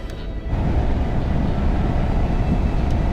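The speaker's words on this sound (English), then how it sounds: "I get stuck behind this train." A train rumbles past nearby, a steady heavy low roar with rhythmic clatter that holds throughout, no voices.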